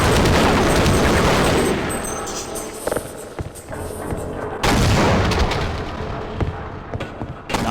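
A grenade blast in Half-Life: Opposing Force, a loud booming burst that decays over a couple of seconds, then scattered gunshots and a second heavy explosion, with no talk.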